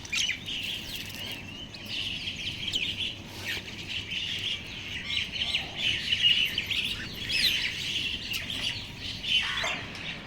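Many birds call and chatter together in a busy, continuous chorus at moderate distance, harsh caws mixed with chirps.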